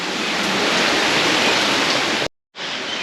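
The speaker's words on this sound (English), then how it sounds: "it's quite depressing waking up to rain in Koh Samui" Steady rain falling in Koh Samui, Thailand, a dense even hiss that cuts out briefly near the end and then resumes, with no voices.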